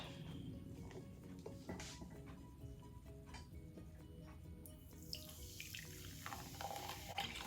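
Room-temperature 7UP soda poured into a measuring cup in a home kitchen for a pound cake, a steady liquid splash and fizz running continuously and close by.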